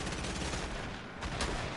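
Gunfire in the Warface video game, a short burst of rapid, loud shots packed closely together in a harsh, dense rattle that fills the moment with no pause.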